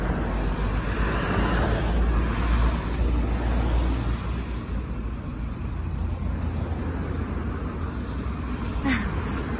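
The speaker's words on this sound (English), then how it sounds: "Friday afternoon, you can't beat busy traffic." Busy main road traffic on a Friday afternoon, with cars passing close in a continuous rushing wash that swells and eases, heard from the roadside.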